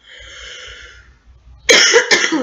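Two close, forceful coughs break out near the microphone after a softer, faint vocal sound fades away.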